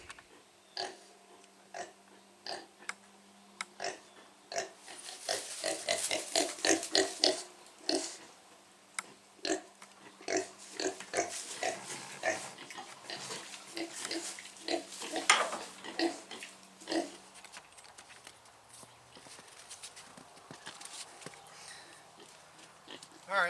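Feeder pigs grunting in short, irregular bursts, some close and loud, others softer, with a low electrical hum running underneath and a few quiet noises in between.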